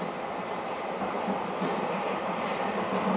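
JR Shikoku 2000 series diesel train running toward Kochi, heard from inside the carriage: a steady rumble and rail noise with faint wheel squeal, no voices.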